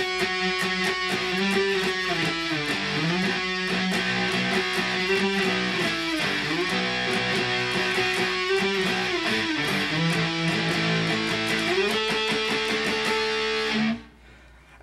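Distorted electric guitar plays the chords of All Time Low's Dear Maria Count Me In at half speed, a steady, loud chugging progression that stops abruptly near the end.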